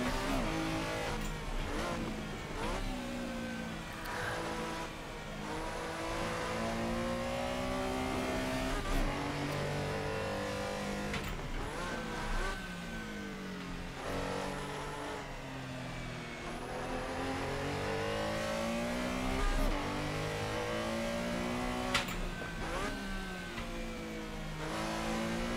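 A Porsche Carrera race car engine in the racing game Assetto Corsa revs and drops through gear changes in repeated rising and falling sweeps, loud and continuous, with brief tire squeals and other cars around.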